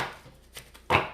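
A deck of tarot cards is cut by hand: a brief papery shuffle and slide ending in one sharper, louder card snap, close and short.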